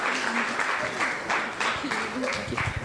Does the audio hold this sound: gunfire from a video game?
no